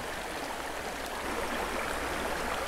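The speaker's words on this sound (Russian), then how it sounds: "Горная маленькая речка. такая речушка." Small mountain river in a forest reserve flowing steadily, a continuous close rushing and burbling of water with no voices.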